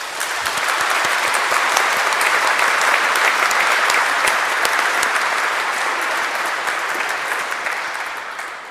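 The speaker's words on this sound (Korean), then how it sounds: "축사에 앞서 저희 모두의 따뜻한 마음을 담아 축하의 박수를 부탁드립니다." A large congregation applauds at a celebration marking the 50th and 60th anniversaries of priests' ordination. The clapping is dense, loud and continuous for about eight seconds, then tapers slightly at the end.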